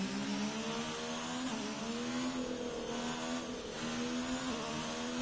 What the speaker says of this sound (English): Playing with the throttle.